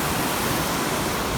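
Water rushing over a lake spillway, a steady loud broadband roar with no breaks, heard close and alone.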